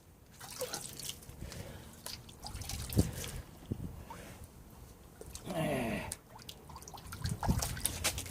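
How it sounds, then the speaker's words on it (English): Water is splashed onto a synthetic sharpening stone during lapping: faint trickling and dripping with a short pour-like swell midway, set against soft handling noise, with no talking. "Let me get some water on there."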